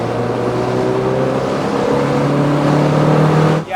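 Mazda MX5 sports car from the 90s accelerating hard after a downshift, a loud, close, steadily rising engine note that cuts off abruptly near the end, with no talking.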